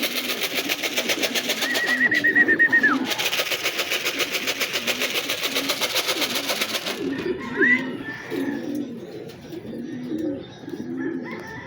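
Racing pigeons arrive at a loft after a training release from Calbayog City. Soft cooing and bird calls sound over a steady engine hum that runs through the first part and then fades.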